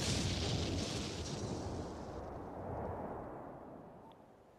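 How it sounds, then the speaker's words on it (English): A low, rumbling explosion booms behind a tree in a video game, starting loud and then decaying into a long, fading roar. "and then an explosion behind that tree"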